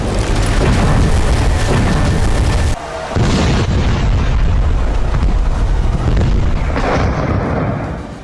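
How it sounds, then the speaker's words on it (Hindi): Missile strikes explode in residential areas of Tel Aviv after an Iranian attack, heard as loud, continuous, booming roar and rumble with a brief dip midway. "फिर भी कुछ मिसाइलें तेल अवीव के रिहायशी इलाकों में गिरी"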